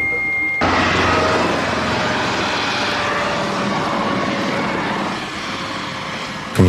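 Steady, loud roar of a helicopter engine droning continuously, close and unbroken, with a faint tonal whine running through it.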